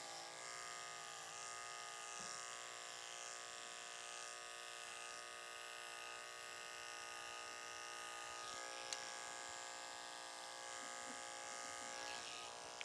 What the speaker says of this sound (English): Take the clipper upside down if you have to.